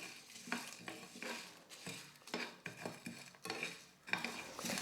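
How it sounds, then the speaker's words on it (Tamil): Whole biryani spices and torn bay leaves dry-roasting in a pan over low flame, a spatula scraping and stirring in repeated quiet strokes with faint rattling of the spices against the metal. "இப்போ இது எல்லாத்தையும் ஸ்டவ்வை லோ ஃப்ளேமில் வச்சுக்கிட்டே வறுத்துக்கலாம்"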